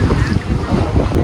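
A boat ride on a Goa river carries a loud, continuous rush of wind buffeting the microphone, mixed with engine rumble and water noise.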